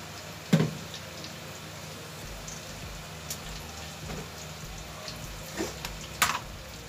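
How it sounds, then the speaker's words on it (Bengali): Vegetables frying in oil make a steady, soft, rain-like sizzle throughout, broken by a few brief clanks of a utensil against the pan. "সবজিটা একটু ভেজে নিই।"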